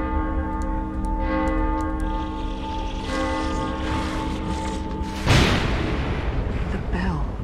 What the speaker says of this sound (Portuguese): The bell. They're drawn to it.